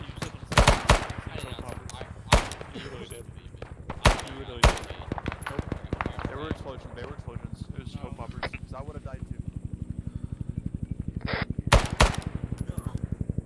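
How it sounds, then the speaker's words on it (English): Machine gun fire in the Vietnam-era military game Arma 3 rattles in loud bursts, then settles into a steady rapid stream of shots, with voices talking underneath. "I'll push up with the machine gun slowly."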